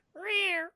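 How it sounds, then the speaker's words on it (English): A single clear cat meow, drawn out for about half a second, close and alone against silence. "Meow."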